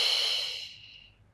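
A single long, breathy exhale during a yoga core exercise, close and soft, fading out steadily over about a second with no words spoken.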